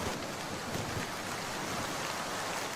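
Rain falls in a cartoon scene, a steady, dense, even hiss of drops throughout the short stretch, with no voices over it.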